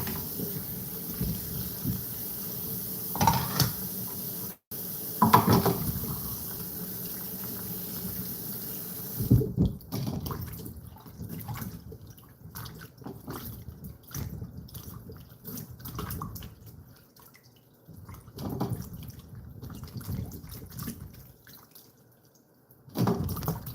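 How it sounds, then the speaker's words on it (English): Tap water runs in a kitchen sink as salted eggplant is rinsed, with an uneven splashing and trickling flow that comes and goes in bursts, fairly close and quiet, with no talk. "So we will just rinse out the salt from the eggplant."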